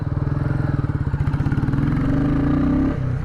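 A motorcycle rides along a busy road on a Friday, its engine loud and close with a steady pulsing throb that climbs in pitch as it accelerates, then eases off near the end.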